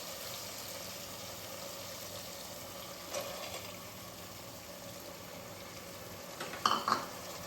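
Soaked masoor lentils are stirred into potatoes and onions sautéed in a pan, a low steady sizzle with a few brief scraping and clinking stirs near the end, close, quiet, and without speech.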